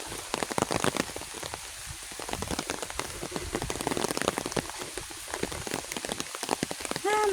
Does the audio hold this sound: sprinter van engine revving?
no